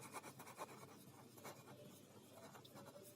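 Pen or marker writing by hand on a board or page during a maths lesson on rational numbers, a soft continuous scratching and rubbing with short strokes, close and fairly quiet, no talk.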